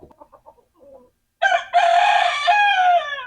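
A few soft clucks, then a loud, close crow from an American Buckeye rooster rings out in one long, strained call.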